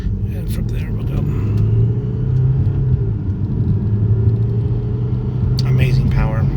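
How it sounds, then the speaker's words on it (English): A 2015 Audi A6 Quattro TDI diesel pulls at three-quarter throttle, its engine droning low and steady inside the cabin with a slowly rising tone, while people talk faintly at the start and end. "as we straighten out, I'm going to go ahead and go 3/4 throttle"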